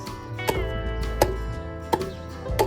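Chisel chopping out timber joinery for a historic barn, four sharp evenly spaced knocks, close and distinct over a low steady hum.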